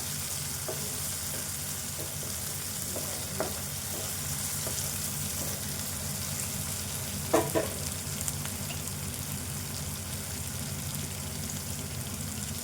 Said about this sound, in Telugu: ఇంకా కూడా వేగాలి, ఇది మెత్తగా కావాలి మొత్తము టమాటో.